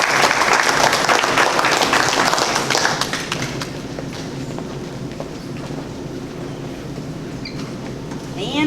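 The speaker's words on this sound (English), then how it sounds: "So just a big round of applause for all of" Audience applause at an esports award ceremony, loud and dense for about three seconds, then dropping to a faint room murmur with a few scattered claps.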